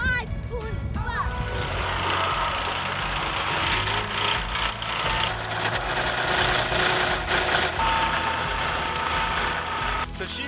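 A pickup truck engine running at a steady idle, close and continuous, with kids' voices in the background.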